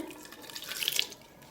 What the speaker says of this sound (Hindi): तो अब हम डालेंगे इसमें पानी।